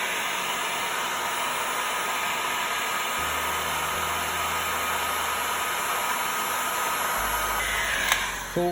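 A heat gun blows a steady, loud hiss of hot air while shrinking heat-shrink tubing over a crimped connector for a 1999 Aprilia RS125 two-stroke motorcycle, with a low hum stepping up partway and a few clicks near the end.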